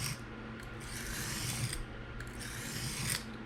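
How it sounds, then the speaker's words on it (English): Backwards edge-trailing strokes on a sharpening stone work the edge of a Kunwu Chad knife in PM60 steel, making a soft, close scraping rasp with a few distinct strokes and no voices. "start doing those backwards edge trailing strokes real quick to flip the burr"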